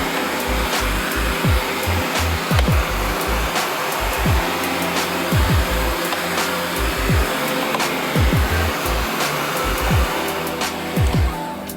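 Hot air tool blowing on the glue that holds the right fender of a 2018 Ford F-150, making a steady close roar like a hair dryer, with occasional low knocks and rumbles underneath and no speech.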